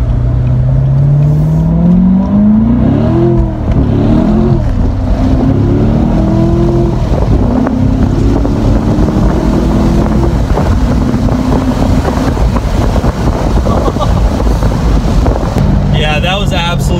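A C7 Corvette Premier Edition revs hard through rising gear pulls while accelerating onto a highway, the pitch climbing and dropping with each shift, under loud wind and road roar.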